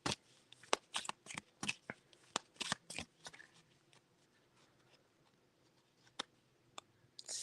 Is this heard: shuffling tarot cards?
yes